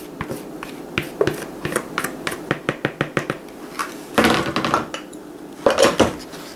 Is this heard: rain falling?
no